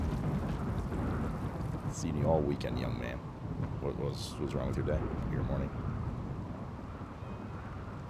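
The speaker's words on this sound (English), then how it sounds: "Rainy thunderstorm." Rainy thunderstorm in the game Rimworld: low rumbling thunder and a steady rain hiss run beneath someone talking throughout.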